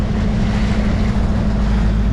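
A classic motoryacht cruises out of Valley Cove on Somes Sound, its engine drone and hull wash forming a loud, steady rumble mixed with wind buffeting the microphone.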